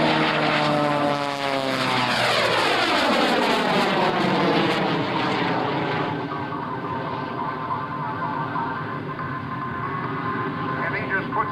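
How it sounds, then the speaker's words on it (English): A propeller-driven aerobatic airplane at an air show over Hampton Roads roars past in a knife edge and climbs away, its loud engine note sweeping downward as it recedes while commentary runs over it. "he just puts that in a knife edge and climbs away from us, and you can see how much power he gets out of that engine"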